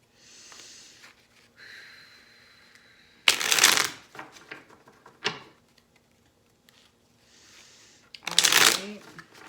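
A tarot deck is riffled and shuffled close up for a reading, two loud bursts of card shuffling with quieter card handling and soft sounds between them.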